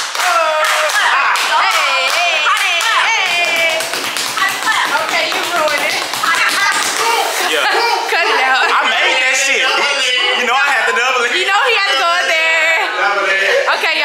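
Hand claps ring out during an indoor hide-and-seek game, sharp repeated claps in loose bursts, mixed with lively voices, chatter and laughter.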